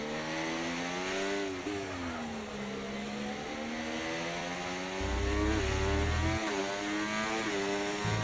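Race cars in a racing game, one a McLaren, roar past with engines revving up and down and shifting gears, a continuous loud whine with a deeper rumble kicking in briefly.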